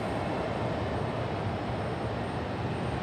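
An airliner departing Raleigh-Durham airport gives off a steady, loud broadband jet roar that stays even and constant throughout, with no voices.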